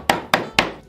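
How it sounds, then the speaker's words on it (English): A hammer strikes three times in steady rhythm, crushing graham crackers on a hard surface, each blow a sharp close thud with brief crunch, alone without speech. "Let's see if I can crush up one of these well enough. I always trust the drunk man with a hammer."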